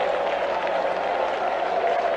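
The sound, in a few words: Fenway Park crowd applauding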